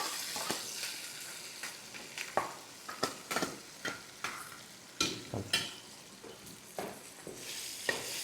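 Cashew masala paste for hotel-style puri kurma sizzles in a pan while a spoon stirs it, the scrapes and splutters coming in quick irregular bursts, close and fairly loud over a soft frying hiss.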